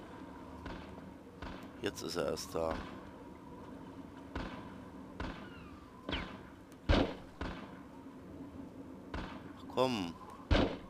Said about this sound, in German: ich verschieße jetzt, glaube ich, sinnlos Schuss